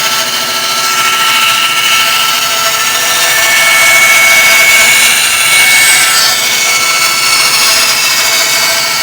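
A bandsaw cuts a circle in a wooden board on a circle-cutting jig, the board rotated against the blade; steady loud whining and rasping fills the clip continuously with no talk.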